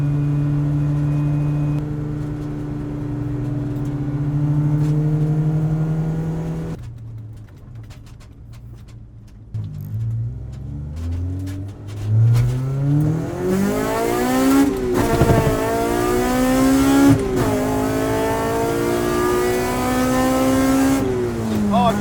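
An Acura Integra with a K20 engine on a mountain drive, a loud close engine drone that eases off, then revs up again in repeated rising and falling pulls as it accelerates through gears.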